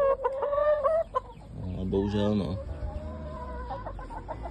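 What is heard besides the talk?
chickens clucking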